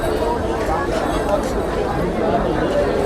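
Crowd chatter at the busy Asthi Pravah Ghat in Haridwar: a dense, steady babble of many voices mixed with outdoor bustle, constant and fairly loud, with no single voice standing out.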